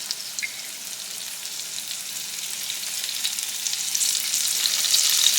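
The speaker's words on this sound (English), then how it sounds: "I'm going to add a little bit of Worcestershire sauce onto my little baby burgers" Worcestershire sauce hitting small smashed beef burgers in a hot skillet, a bright continuous sizzle that swells louder toward the end, close up and alone without talk.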